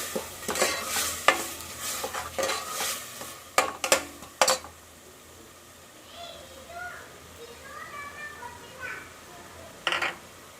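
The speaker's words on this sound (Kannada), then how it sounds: "ರುಬ್ಬಿರೋ ಪುದೀನ ಸೊಪ್ಪು ಸಾಂಬಾರು ಸೊಪ್ಪು ಮೆಂತ್ಯ ಸೊಪ್ಪು ರುಬ್ಬಿ ಪೇಸ್ಟ್ ಮಾಡಿ ಅದನ್ನು ಹಾಕ್ಕೊಂಡು ಫ್ರೈ ಮಾಡ್ಕೊಬೇಕು" Paste of ground mint, herbs and fenugreek leaves frying in a pan for green chicken biryani, with a spoon stirring and scraping in short bursts over a soft sizzle, then quieter sizzling with occasional clinks.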